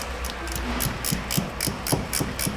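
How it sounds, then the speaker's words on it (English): A 15 mm Astro razor ratcheting wrench clicking in a steady run of about ten crisp, evenly spaced pawl clicks, close up and fairly quiet, with no talk. "This is the 15 mil Astro razor wrench."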